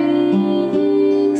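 An acoustic guitar picks the Mary's Lullaby chord pattern, single notes ringing and changing in a short, gentle phrase played alone.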